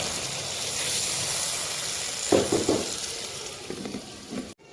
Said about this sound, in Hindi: थोड़ा सा पानी ऐड कर देंगे और इसे 10 मिनट दम वाले फ्लेम पर पकाएंगे